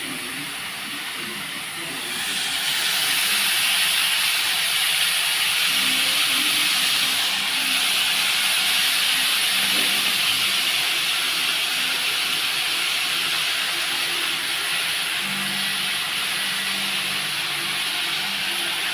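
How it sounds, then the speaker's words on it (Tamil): Chopped carrot and cabbage sauté in a hot pan, a broad, steady steaming hiss that swells after a quieter start and holds evenly, with faint stirring underneath. "அரிஞ்சு வச்சு முட்டைக்கோஸை ஆட் பண்ணிவிட்டேன். இப்போ இதை நல்லா வதக்க ஆரம்பிக்க வேண்டியதான்."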